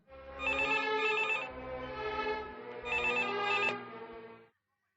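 A telephone rings in a film scene, two bursts of electronic trilling ringtone, fairly loud and close, then cutting off to silence.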